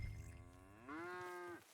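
A cow lets out a single sustained moo on a ranch, starting low and rising into a long, clear, fairly close call before cutting off, with no talking over it.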